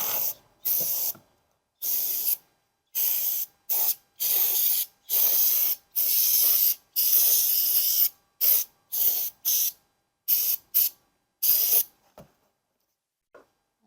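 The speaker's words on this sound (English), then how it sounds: "Gonna use my brake cleaner as well." Brake cleaner is sprayed onto brake hardware in repeated sharp hissing bursts, a dozen or more short and long blasts separated by silent gaps, close and loud, ending in quiet.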